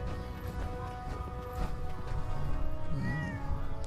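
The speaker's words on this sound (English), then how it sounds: "Yo, it's a little freaking cat." A small cat meows in Fallout 4, a short, faint mewing near the end of a busy stretch of game music and ambient noise.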